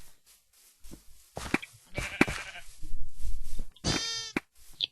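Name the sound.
sheep bleating in Minecraft video game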